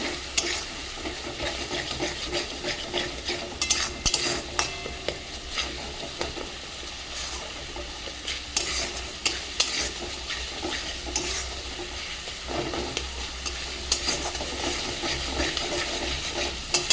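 Egg curry masala with chili powder and a little water being stirred and fried in a pan, a continuous hissing sizzle broken by frequent scraping clinks of the spatula, fairly close and steady.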